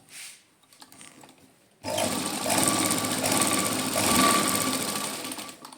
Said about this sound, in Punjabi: ਇਹਨੂੰ ਆਪਾਂ ਕੱਚੀ ਸਲਾਈਆਂ ਲਾ ਲਵਾਂ